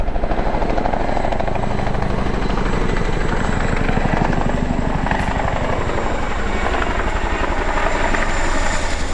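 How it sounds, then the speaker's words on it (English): A helicopter flying low thunders close overhead at Wareham Quay, Dorset, its rotor chopping steadily and loudly throughout without letting up. "The helicopter."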